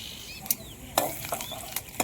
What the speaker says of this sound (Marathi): आता जे मी हे थोडे थोडे असे काप केले ना, ते आपण चिचीचे या फोडणीत टाकून देऊ